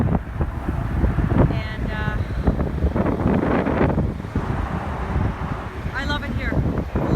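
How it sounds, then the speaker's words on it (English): Strong wind buffets the microphone at Pearson International Airport, a constant low rumbling roar that stays loud throughout, with brief tonal whines and faint speech mixed beneath it. "it's an incredibly windy day here at Pearson International Airport."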